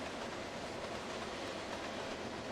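Steam train driving in Trainz Simulator World Tour on Xbox: a steady, continuous rumble of rolling wheels and rail noise with faint clickety-clack, loud and unbroken throughout, no voices.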